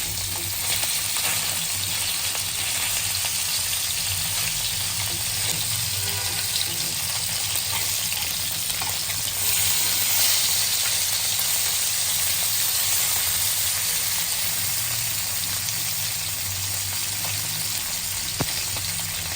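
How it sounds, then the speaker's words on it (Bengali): Tilapia fish sizzles steadily in a pan over low-to-medium heat, a dense continuous frying hiss with faint crackles and no speech throughout. "মাছ ভাজার সময় অবশ্যই আমাদের চুলার লোটু লো টু মিডিয়ামে রাখতে হবে"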